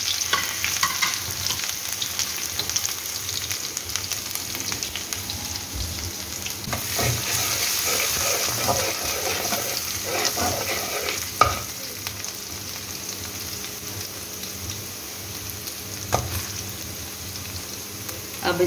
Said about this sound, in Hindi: ये लहसुन अदरक का पेस्ट है, ये 2 टेबल स्पून और कुकिंग ऑयल में डाल दिए।